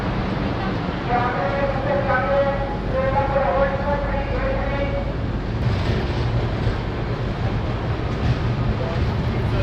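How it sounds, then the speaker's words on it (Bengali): Chambal Express pulling out of Asansol Junction, a steady low rumble of wheels and carriages with rising rolling noise, people talking over it on the platform. "কিছুক্ষণ দাঁড়ানোর পর আসানসোল জংশন থেকে ট্রেন ছেড়ে দিয়েছে"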